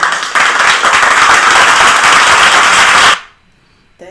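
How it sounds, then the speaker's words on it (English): Loud audience applause for a full daycare, dense clapping running steadily for about three seconds before cutting off abruptly into near silence. "Round of applause for the daycare being full"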